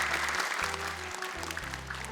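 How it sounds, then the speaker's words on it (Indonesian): Studio audience applauding at a televised Quran memorization talent show, a steady wash of clapping under a low, repeating musical hum. "Tepuk tangan dong buat mereka bertiga semua"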